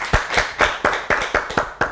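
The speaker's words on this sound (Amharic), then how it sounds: "አጨብጭቡላት፣ አጨብጭቡላት" A small group claps on a children's TV quiz show, about nine sharp, evenly spaced claps in a steady rhythm, close and clear with no talking over them.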